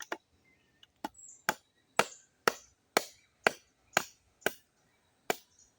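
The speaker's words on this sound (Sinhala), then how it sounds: "මේ ලිය හයියෙන් ඉඳලා මේ කපන්න අමාරු මේ පොඩි පිහිය." A small knife chops into very hard wood in the forest, about ten sharp, evenly spaced whacks ringing out close and loud against quiet surroundings.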